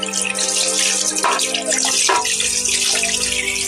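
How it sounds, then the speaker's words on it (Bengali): Fish being washed under a running kitchen tap, a steady close rush of water with splashing and shifting flow as the fish is handled. "মাছটা ধুয়ে নেব।"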